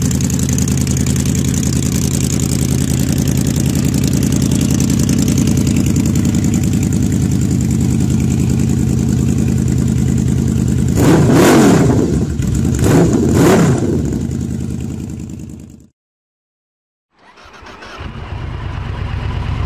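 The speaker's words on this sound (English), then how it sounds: "Voodoo exhausts are not that well known, but because they are fucking loud," A Yamaha VMax 1700 motorcycle fitted with a Voodoo exhaust idles loudly with a deep, steady rumble, then gives two sharp revs before a brief silence and a return to idle.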